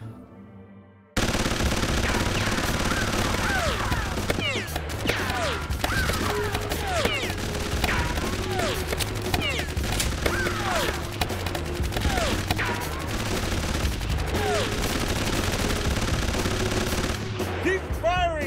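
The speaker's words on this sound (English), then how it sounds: "Keep firing! Don't let up!" Sustained rapid machine-gun bursts and scattered gunshots fill an animated action cartoon, loud and near and nearly continuous for the whole stretch, with short shouted voices and impacts mixed in.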